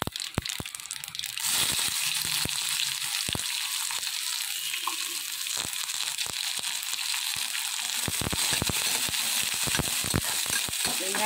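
Chopped large onion with curry leaves sautés in hot oil, a loud, dense sizzle filling the whole stretch, punctuated by sharp scraping and clacking strokes of a spoon against the pan, busiest toward the end.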